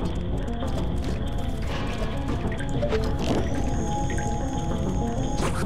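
Water sloshes and drips as it fills a room in the video game Majora's Mask, a steady liquid gurgle with scattered splashes and drops continuing for several seconds, no voices.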